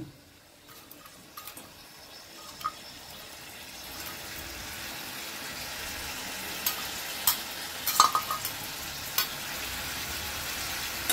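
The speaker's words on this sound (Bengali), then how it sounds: "লাউটা সেদ্ধ হয়ে গেছে ভালো, একটু আমি এখন ভালো করে নাড়ব।" Bottle gourd cooked soft with a hilsa fish head gets stirred in a pan, giving faint scraping and soft clicks of the spoon over a quiet bubbling background, with a few sharper knocks near the end.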